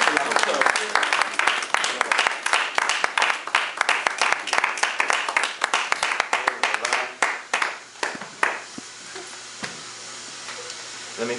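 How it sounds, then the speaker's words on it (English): An audience applauds to welcome a speaker at a community talk, dense claps near and loud, thinning out toward the end with a few scattered claps and some voices underneath. "Let's receive our brother with a warm round of applause."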